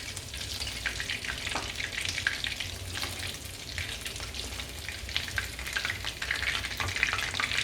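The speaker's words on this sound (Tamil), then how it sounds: "நல்லா வறுபட்டுச்சு." Chicken 65 pieces, South Indian style, deep fry in hot oil with a dense, continuous bubbling sizzle and scattered crackles throughout, steady and close.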